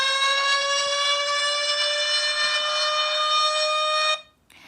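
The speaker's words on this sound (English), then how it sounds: "the tornado siren" A tornado warning siren sounds loud and steady, a sustained rich tone held for about four seconds before cutting off abruptly, alone with no voices.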